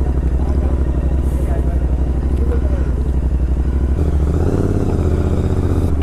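A 2023 Royal Enfield Continental GT 650 motorcycle idles steadily, then its engine note shifts as it pulls away on a mountain road, close and loud throughout with a continuous low rumble.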